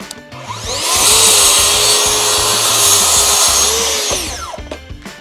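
A Festool TSC55K plunge saw spins up and makes a 15-degree bevel cut through wood, a loud whining cut of about three seconds with a rising start and a falling spin-down, followed by a few clicks.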